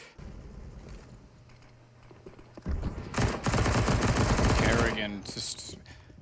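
Counter-Strike: Global Offensive gunfire at Train during a professional esports match: sparse shots at first, then a dense sustained burst of rapid automatic fire, loud and close, with a caster's voice underneath.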